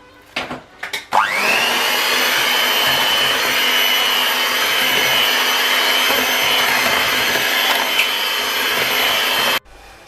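An electric mixer or blender whirs steadily and loudly for about eight seconds, mixing an ingredient mixture for a children's Italian dessert. It starts with a few short bumps and knocks, then holds a constant high motor whine until it cuts off.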